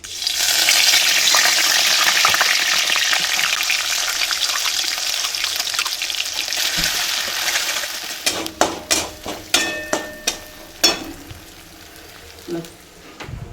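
Ground masala with two bay leaves frying in hot oil for keema, a loud, steady close sizzle that thins out into a series of sharp spoon knocks and scrapes against the pan.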